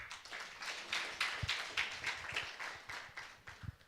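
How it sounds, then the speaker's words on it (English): An audience gives a speaker a round of applause as she takes the stage, a soft, scattered clapping heard from a distance. "let us give Mages Bongile a round hand of applause as she is taking up the stage"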